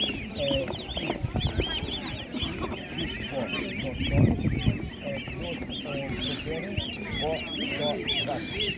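Geese honk repeatedly amid clucking ducks and poultry at a Ukrainian animal market, with people talking prices throughout and a louder burst of honks midway.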